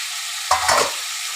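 Fried fish pieces being stirred with coriander and cumin spices in a pan, a short burst of scraping and sizzling lasting under half a second, close and moderately loud against a quiet background.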